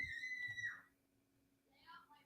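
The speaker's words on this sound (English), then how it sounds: "if you guys heard that scream" A young child screams from somewhere away from the microphone: one brief, high, piercing cry lasting under a second, faint and distant, followed by quieter murmuring.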